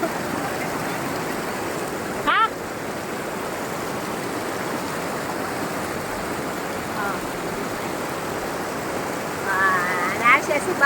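A large river rushes over a waterfall, making a steady, broadband roar of flowing water. It stays loud and constant throughout, with a few brief faint bird or voice sounds on top.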